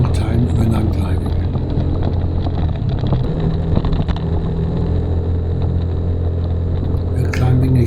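A car climbing a forested mountain road between Serang and Carita Beach, its engine and road rumble steady and close throughout, with wind noise buffeting the microphone and a voice talking over it.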